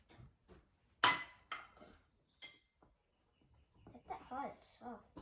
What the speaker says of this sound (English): now you're going to whisk it